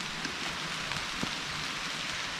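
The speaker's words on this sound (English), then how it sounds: "So it's raining pretty good now." Steady rain patters on leaves and ground in woods, a dense even hiss with an occasional heavier drop, no voices.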